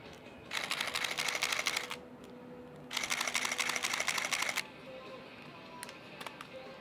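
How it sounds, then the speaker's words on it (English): A film camera firing repeatedly, its shutter clicks merged with the whirring motor drive advancing the film in two sustained bursts of about five frames a second, followed by a few isolated clicks in a quiet room. "when people take photos, like they hear a shutter, but they don't hear the motor pulling the film"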